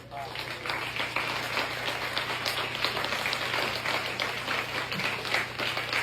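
An audience applauds for Institut Abélard, steady sustained clapping from many hands over a constant low hum, moderately distant and continuous throughout.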